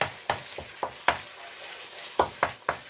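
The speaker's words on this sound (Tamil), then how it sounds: "வறுக்க போகிறேன்." Egg frying in a pan for fried rice, stirred into small pieces: a low sizzle under a series of sharp spatula scrapes and knocks in an uneven rhythm, close and clear, with no talking.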